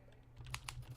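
Quiet, close keyboard typing on a computer, a quick run of several soft key clicks over a low steady hum.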